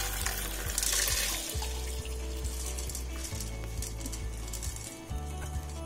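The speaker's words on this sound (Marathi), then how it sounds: "ओतून हे पाणी काढून घेऊया." Soaking water from sorghum poured out through a sieve, a continuous splashing, trickling stream of liquid, close and moderately loud, with small clinks of the strainer.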